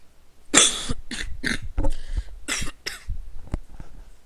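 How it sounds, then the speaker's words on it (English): A fit of several rough, close coughs comes in quick succession, uneven and throaty, trailing off with a few smaller hacks. "Sorry about that, I had to cough."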